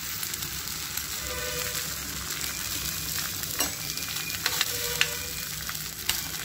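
Egg frying in coconut oil in a pan, a steady bright sizzle with small crackles and pops, close and continuous, no talking.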